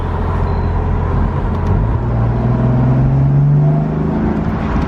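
A BMW M4 F83 convertible on its stock exhaust while being driven, a loud, steady engine drone heard from inside the car that rises gradually in pitch as it accelerates, with no talking.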